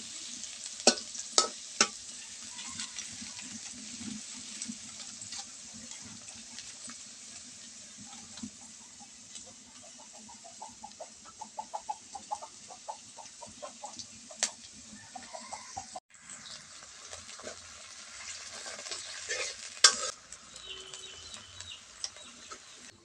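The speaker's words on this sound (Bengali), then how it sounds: "আর এখন আমি পেঁয়াজ আর কাঁচামরিচ তেলে ভেজে নিচ্ছি।" Chopped onions and green chilies fry in hot oil on a stove, a steady close sizzle with scattered stirring clicks and scrapes, faint birds and a rooster calling in the background.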